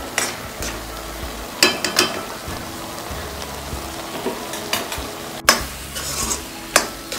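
A spoon stirs and scrapes carrot halwa simmering in milk in a pan, giving soft bubbling sizzle with several sharp scraping knocks against the pan at irregular intervals.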